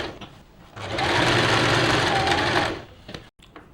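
A sewing machine stitches the pleats of a silk pattu pavadai skirt. It runs in one steady, fairly loud burst lasting under two seconds, with quiet handling sounds before and after.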